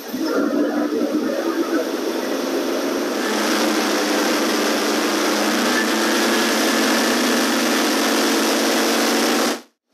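Ford engine with a recurved stock distributor, revving and holding at a high steady whine after an initial lower idle, loud and continuous before cutting off abruptly at the end.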